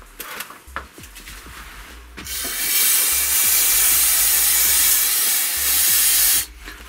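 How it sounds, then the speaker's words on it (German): A loud, steady aerosol hiss of brake cleaner spray runs for about four seconds after some clattering handling noises in a Unimog U406 workshop, then cuts off abruptly. "Bremsenreiniger."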